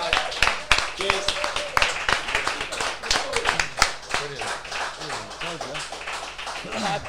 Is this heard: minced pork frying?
no